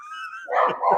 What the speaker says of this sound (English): Sorry, dogs are not that loud.